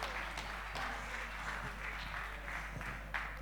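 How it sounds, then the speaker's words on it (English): Audience applause at a steel technology seminar, a steady mid-level wash of clapping that continues evenly throughout with no voices standing out. "Thank you so much for standing ovation."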